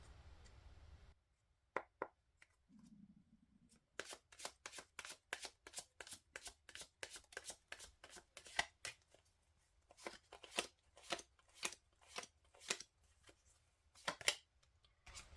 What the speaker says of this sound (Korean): 타로 카드 2장 한번 볼게요